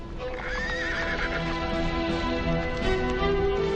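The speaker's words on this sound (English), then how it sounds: "The two horsemen are coming slowly." Two saddled horses carrying riders approach slowly, neighing and whinnying close by over a steady clip-clop of hooves, continuous throughout with no talking.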